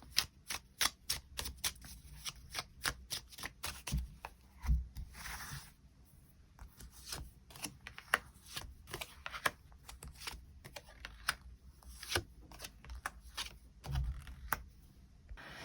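Tarot cards shuffled by hand, heard as rapid riffling bursts and crisp flicks in a steady, repeated rhythm that carries on throughout. Softer rustles and taps come between the bursts. It is close and fairly quiet, with no talk over it.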